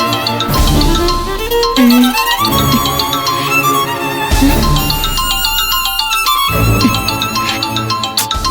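A phone rings loudly with a melodic ringtone tune that repeats its phrases for several seconds, with no voices over it, in a Tamil TV serial scene.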